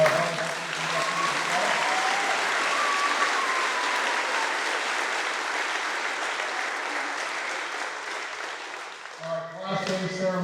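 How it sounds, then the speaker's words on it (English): Sustained applause from a seated crowd for graduating seniors at a class day ceremony, a dense even clapping that fades near the end before a voice briefly speaks. "a round of applause for all our seniors"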